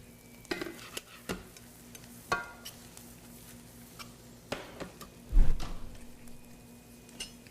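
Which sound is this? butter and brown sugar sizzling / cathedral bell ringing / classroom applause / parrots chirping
butter and brown sugar sizzling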